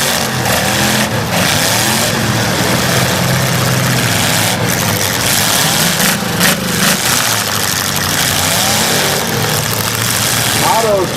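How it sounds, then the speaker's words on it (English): Loud, continuous engine roar from a truck at a county demolition derby, steam pouring from its engine, running and revving steadily while an announcer talks over it. "Otto's truck, plenty of steam rolling out of the engine through the driver's cab."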